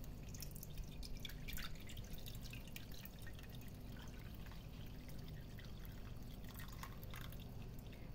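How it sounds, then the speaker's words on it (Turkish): Water trickles and drips steadily onto sour cherries in a container, a faint, continuous pouring with small splashy drips throughout. "Biraz bekletip arkadaşlar üzerine suyumuzu ilave edelim."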